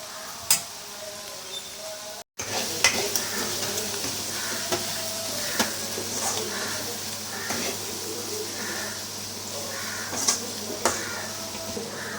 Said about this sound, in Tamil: இப்போ இதை நல்லா ஃப்ரை பண்ணி நான் எப்படி இருக்குன்னு காட்டுறேன்.